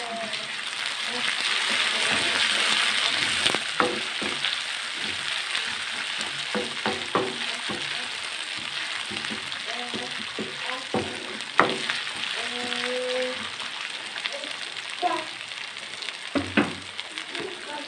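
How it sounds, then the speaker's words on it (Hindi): Onion frying in a pan with ginger garlic paste for an aloo keema fry, a steady sizzle with scraping stirring clicks, someone speaking over it. "अब इसमें हम डालेंगे 1 टेबलस्पून अदरक लहसुन का पेस्ट, ठीक है नाज़रीन। और इसको भी हम इसमें भूनेंगे"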